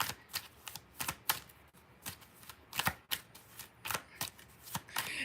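Tarot cards are shuffled by hand in a run of quick riffling and snapping bursts with short pauses between, close and fairly soft, with no voices.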